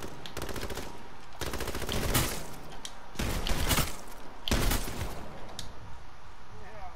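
Light machine gun fire in a duos round of an online shooter game, with several rapid, loud bursts separated by short pauses and a voice briefly audible.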